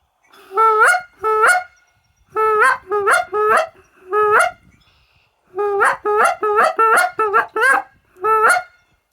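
A goose call blown in a hunting call demonstration, honking in quick bursts: a few spaced single honks, then a fast run of clipped, nasal two-note calls, loud and close with short gaps of silence.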